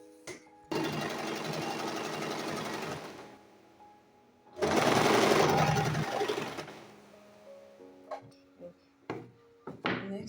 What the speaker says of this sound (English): So to secure it, you still have to sew one tiny line on top.